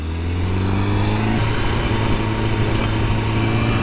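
A 2020 Honda Fireblade being ridden on the road, its engine holding a steady loud drone with a constant low hum and rushing wind noise throughout, no voices.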